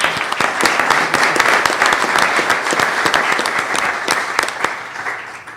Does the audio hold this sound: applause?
yes